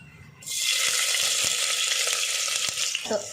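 Garlic hits hot oil in a pressure cooker with an instant, loud sizzle that holds steady, a few faint utensil taps and a small clink near the end, for a Kerala-style chicken curry.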